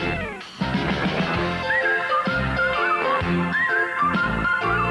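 A bright melodic whistle plays over the bouncy instrumental theme tune of It's Garry Shandling's Show, repeating a short phrase several times.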